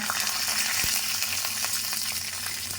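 Chana dal and urad dal frying in oil after mustard seeds have spluttered, a dense continuous crackling sizzle with small rapid pops, loud and close, no voices.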